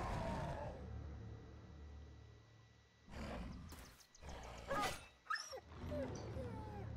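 Dogs in the video game Battle Brothers yelp and snarl in several sharp bursts amid combat clatter, following a quieter stretch.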